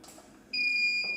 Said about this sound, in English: which obviously lets out quite an audible noise to let you know that the flash is ready to use again, the power has recycled